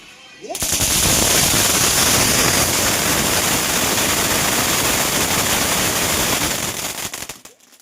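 A Diwali firecracker of a crackling type bursts in a rapid, dense series, roaring loud and close for about seven seconds before it cuts off.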